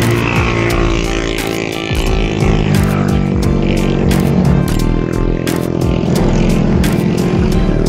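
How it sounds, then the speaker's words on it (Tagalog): Several motorcycles pass along a busy mountain road on the Cavite Loop near Kaybiang Tunnel, engines droning loudly and continuously with overlapping revs and no talk. "puro motor dumadaan"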